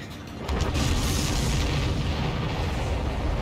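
A deep, rumbling boom erupts in the video game Ace Combat 7: Skies Unknown and keeps roaring as a sustained, heavy blast with low crackling debris, loud and close.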